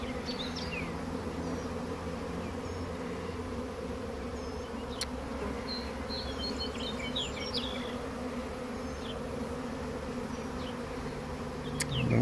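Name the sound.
honey bee swarm buzzing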